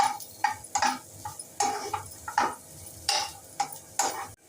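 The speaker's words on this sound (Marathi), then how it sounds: "थोडंसं तेल टाकून घेऊया पहिल्यांदा उभा चिरलेला कांदा घालूया छान लालसर होईपर्यंत परतून घेऊया" Sliced onion frying in oil in a pan, with steady sizzling broken by about a dozen sharp stirring scrapes and clinks from the utensil. The scrapes come in quick irregular bursts, close and clear, and no voices are heard.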